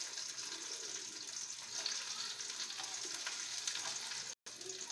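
Garlic, ginger and a little onion sizzle in a hot pan for a chicken and bell pepper stir fry, a steady faint crackle with a brief dropout near the end.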